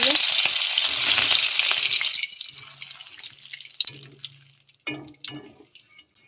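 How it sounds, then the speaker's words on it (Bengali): Washed curry leaves drop into hot oil and set off a loud burst of sizzling spatter that fades after a couple of seconds into quieter crackling and a few scrapes of stirring, with no talking. "তেলের মধ্যে দিয়ে দেবো কারি পাতাগুলো।"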